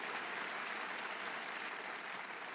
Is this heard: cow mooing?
no